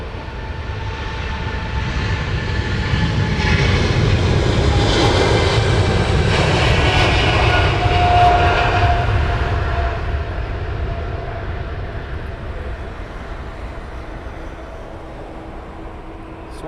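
A British Airways Boeing 777 airliner takes off at London Heathrow Airport. Its jet engines give a loud, sustained broadband roar that builds, holds steady near its peak, then slowly fades as the aircraft climbs away. No voices are heard.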